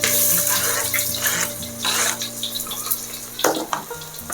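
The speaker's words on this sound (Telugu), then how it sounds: "ఆనియన్ మంచిగా బ్రౌన్ కలర్ వచ్చేంత వరకు ఫ్రై చేసుకోవాలి" Onions frying in hot oil for gongura mutton give off a steady, close sizzle and hiss under a low constant hum, with a brief louder crackle near the end. No one speaks.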